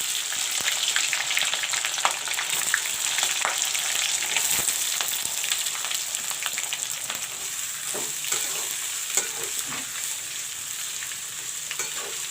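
Onions and bay leaves frying in hot oil for chicken gravy, a steady crackling sizzle broken by frequent stirring clicks and scrapes, close up with no voices.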